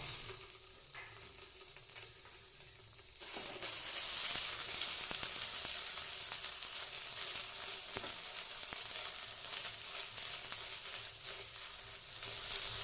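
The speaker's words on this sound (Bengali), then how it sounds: "আদা জিরে বাটাটা 30 থেকে 40 সেকেন্ড মতো গ্যাসটাকে লো ফ্লেমে রেখে কষিয়ে নিচ্ছি।" Ginger-cumin paste frying in oil over a low gas flame for a vegetarian festival thali: a quiet start, then a steady, loud bright sizzle that holds close and even for about ten seconds with a few stirring scrapes, no talking.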